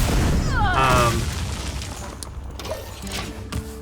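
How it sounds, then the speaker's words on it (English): Arcane Shot spell effect in the Hearthstone card game: a loud magical burst with a rising, whistling sweep, then a fading rumble and a few faint clicks. "Let me just go ahead and Arcane Shot it right now."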